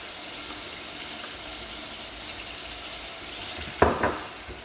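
Spices hit hot chili oil for Thai green curry with chicken and give a continuous hissing sizzle, then a sharp, louder spluttering burst near the end. No voices are heard.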